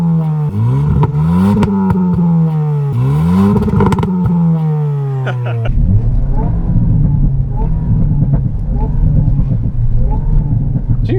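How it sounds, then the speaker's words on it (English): A 2023 Hyundai i20N revs hard, its exhaust climbing and falling in two loud sweeps before settling into a lower, rumbling burble with pops, close and continuous. "I love the exhaust tone."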